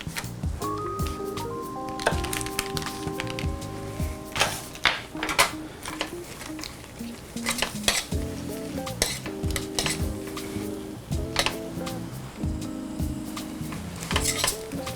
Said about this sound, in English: I'm gonna go ahead and add some more of my butter. I'm gonna add the whole stick.